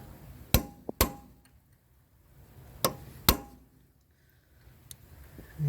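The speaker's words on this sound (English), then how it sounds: "So now we are going to stake the axle nut here." Sharp metallic hammer blows staking the axle nut on a 2010 Subaru Outback 3.6 rear hub: two pairs of loud, close strikes with a lighter tap between and a fainter knock near the end, set in a quiet workshop.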